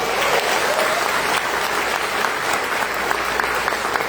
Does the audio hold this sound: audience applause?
yes